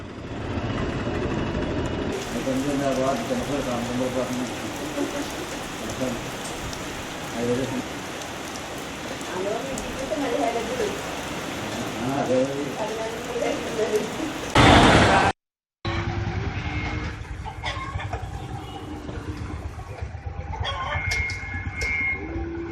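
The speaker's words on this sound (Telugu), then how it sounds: "విశాఖ నగరంలో తెల్లవారుజాము నుంచి ఎడతెరిపి లేకుండా భారీ వర్షం కురుస్తోంది." Steady, heavy rain pours down in Visakhapatnam as a dense wash of noise, with harmonic talk-like tones layered over it and a brief loud burst before a short gap.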